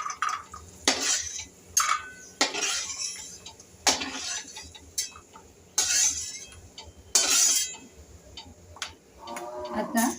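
Dry fruits roasted in ghee for a jaggery semolina sheera are scraped out of the pan onto a plate, a series of sharp metal scrapes and clinks at close range, with no talking.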